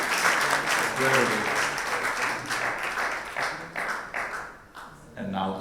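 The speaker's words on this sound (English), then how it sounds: "Huge round of applause, guys." An audience at an awards event claps in a sustained round of applause. Someone speaks briefly over it, and the clapping thins out before picking up again at the end.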